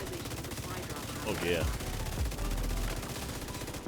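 Rapid automatic fire from the Pestilence gun in The Division 2, aimed at a Stinger Hive: a dense, steady stream of shots that runs throughout while someone speaks briefly over it.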